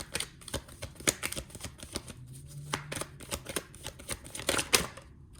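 Tarot cards riffle and snap in a dense run of crisp, close clicks and flicks as they are shuffled, ending in a few sharper slaps as cards are drawn and laid down.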